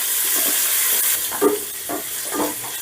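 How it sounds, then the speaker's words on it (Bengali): Chopped onions frying gently in oil in a pan, a soft continuous hiss with a few light sputters and pops rising over it, close by and without speech. "এবার পেঁয়াজটাও আমি হালকা করে ভেজে নেব"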